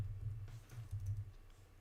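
Rapid soft key clicks from typing on a computer keyboard while coding, close and steady, with a low background hum and no talking.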